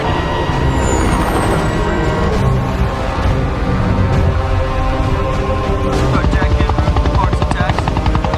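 Loud helicopter rotor drone with a steady low thumping, close and continuous throughout, joined by mechanical rumble and faint scattered voices.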